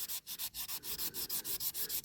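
A sanding sponge rubbed back and forth over scratches on a 1970s Tonka Ford Mustang toy car, giving close, rhythmic scraping strokes, about a dozen in quick succession with no talk.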